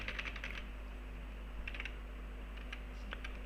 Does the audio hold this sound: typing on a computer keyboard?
yes